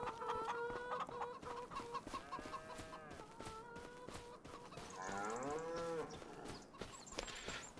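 Cows moo repeatedly on a video game farm, long drawn-out lowing calls overlapping one another, with clucking chickens in the background and no talking.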